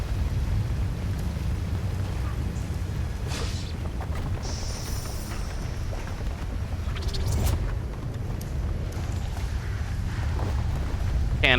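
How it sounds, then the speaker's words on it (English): Steady, heavy low rumble of a cave waterfall in the video game Art of Vengeance, a dense continuous roar with a few brief higher swooshes and clinks from the game on top, fairly loud throughout with no voices. "The incredibly oppressive sound of the waterfall in the cave."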